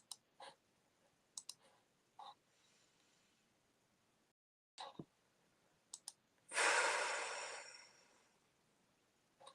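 Several sharp, faint jaw clicks spaced irregularly in a quiet room, followed by a louder sighing exhale.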